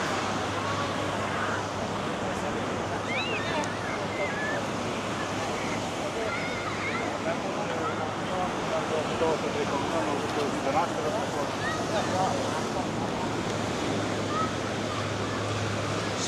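Wind blows steadily along the beach at Calpe on the Spanish coast with a constant broadband rush, waves and surf mixed in, and a person talks over it now and then.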